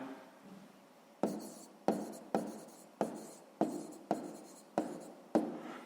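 Handwriting with a pen on paper, a series of about eight short scratchy strokes in a regular rhythm, close and fairly quiet.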